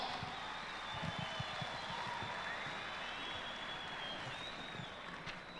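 Crowd in an indoor arena applauds 6,200-pound four-wheel-drive modified truck pullers at a tractor pull farm machinery show, a broad sustained wash of clapping heard from a distance with some cheering and echo.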